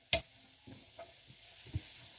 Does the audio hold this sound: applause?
no